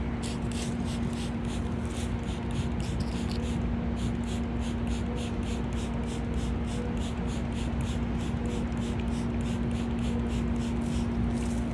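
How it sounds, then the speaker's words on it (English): Big bottle of water spraying onto long natural hair outdoors in a park, giving a steady stream of quick repeated hissing spritzes over a constant low hum. "Let me just spray a little bit more water here."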